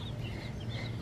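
Chickens and turkeys clucking softly at a farm while being let out of their pen, a low continuous murmur of fowl calls with one slightly louder cluck near the end.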